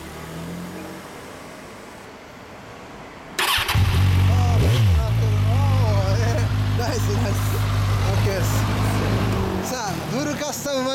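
A 2014 Kawasaki motorcycle with a Moriwaki MX exhaust fires up after quiet background, then revs repeatedly in loud rising and falling sweeps before easing back, heard close with voices faintly around it.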